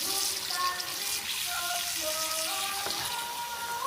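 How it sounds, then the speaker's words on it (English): Water pours steadily from a tap into a pot to cover sausage meat, a continuous splashing hiss with faint clinks of the pot throughout. "fill this up, and you want to fill it to where the water covers the meat"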